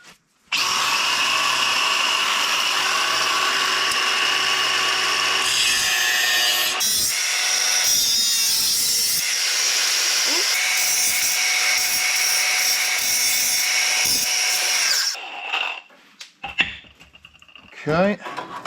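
Power cutting tool slicing off a metal flange on a CJ-2A Willys Jeep body, a loud steady whine with a changing pitch that holds for about fifteen seconds, then stops into scattered handling clatter.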